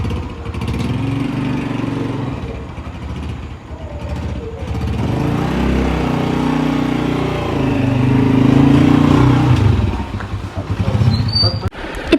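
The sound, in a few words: motorcycle engine running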